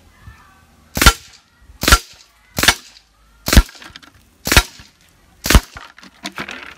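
Six sharp shots from a semi-automatic PCP air rifle fired at a steady pace, each a loud crisp crack with quiet pauses between, close by.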